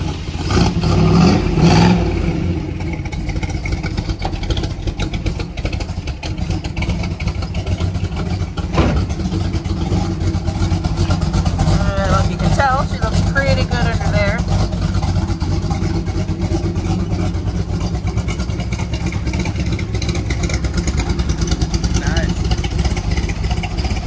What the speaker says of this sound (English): Getting ready to give us a nice startup.